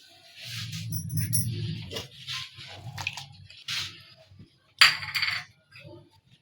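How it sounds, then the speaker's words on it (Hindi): A halved onion, skin still on, dropped into hot mustard oil in a kadhai, giving wet splashy drips and brief crackles in several short bursts, close and fairly quiet. "अब हम इसमें डालेंगे प्याज।"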